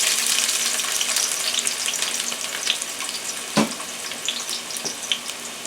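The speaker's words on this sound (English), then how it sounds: "I have some olive oil in the frying pan here. And I have one small onion cut up." Chopped small onion frying in olive oil in a frying pan, giving a steady, dense sizzle with a brief clatter midway and occasional soft pops.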